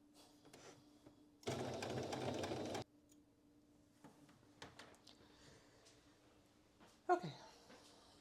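A sewing machine stitching fabric runs in one steady, loud, buzzing burst of about a second and a half, then stops, leaving faint handling noises and a brief high whine.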